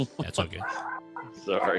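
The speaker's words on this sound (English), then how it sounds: "Oh, I hear a dog in the background." A pet beagle barks and whimpers in the background while someone talks close to the microphone, its short yips partly buried under his voice.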